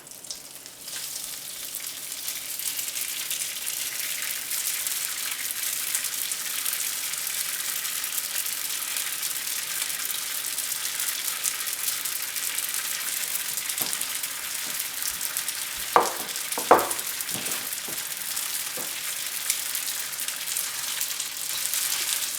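Rice noodles, softened in warm water, fry in about five tablespoons of olive oil for Pad Thai in a home kitchen. A steady close sizzle runs throughout, with a few brief utensil clatters near the end and no talking.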